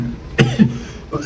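A person coughs, with one harsh cough followed by a second shorter one and a faint throaty sound after them. The coughs sound close and moderately loud, with no speech.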